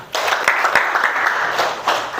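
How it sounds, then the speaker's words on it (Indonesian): Students in a classroom clap together, a short burst of lively applause with a few distinct sharp claps standing out, with no talk over it. "Tepuk tangan untuk kalian semua"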